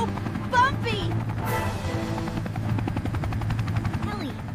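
Cartoon rescue helicopter flying through hot, turbulent air over rocky ground, a steady rotor drone running throughout with brief whooshes and effects layered on top, while voices talk over it.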